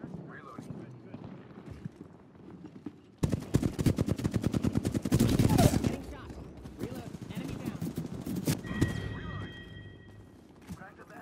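Rapid automatic gunfire from an Apex Legends firefight rattles out in dense bursts, loud and close, with scattered single shots and game effects afterward under occasional voices.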